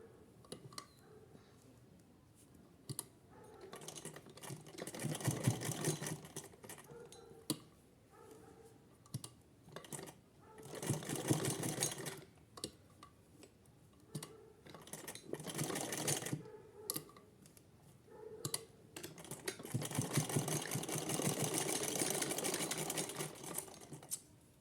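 A sewing machine stitches lace onto a small turban for a Laddu Gopal idol in several faint, rapid whirring runs of a few seconds each, separated by pauses with soft clicks and handling noise.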